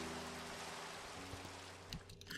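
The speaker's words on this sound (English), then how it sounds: "it's raining" Rain falls steadily in a Minecraft world, a soft continuous patter under faint tones and a few brief game sounds.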